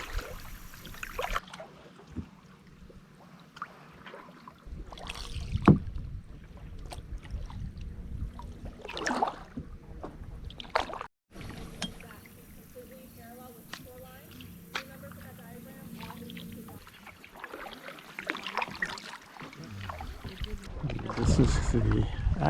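A kayak glides along the edge of the SS Boone shipwreck in Mallows Bay, with intermittent paddle splashes and water trickling against a soft wind background.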